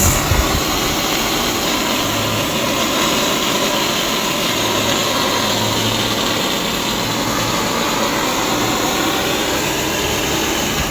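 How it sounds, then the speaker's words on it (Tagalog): Air compressor driving an aqua sand blasting rig runs loud and constant, a dense roaring hiss with a low mechanical hum underneath, holding steady throughout without speech. "kapag binuksan natin yung compressor lalong malakas po siya"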